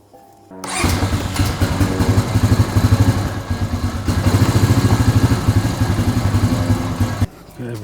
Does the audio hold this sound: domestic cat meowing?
no